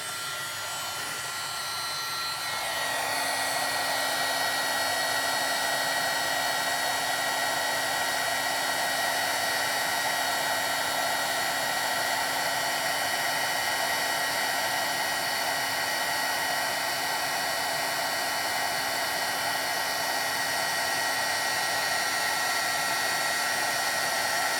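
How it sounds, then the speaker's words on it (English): Embossing heat gun warming ink on a winter-themed card, a loud steady blowing whoosh with a faint motor whine that rises as it switches on and then holds constant, close and uninterrupted, with no talking. "So we're gonna take our heat tool."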